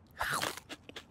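A cartoon character takes a quick crunchy bite of dry cat food, making one sharp crackling crunch followed by a few short chewing clicks. The sound is close and brief, with no talk over it.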